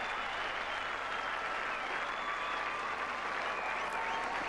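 A cricket stadium crowd applauds a batsman reaching 150, a dense, steady wash of clapping and cheering that holds at full level throughout.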